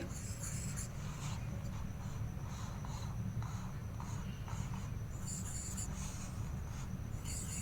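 A pen scratches across paper as it circles a handwritten digit. The faint, repeated strokes come close up under a low room hiss, with a murmuring voice in the background.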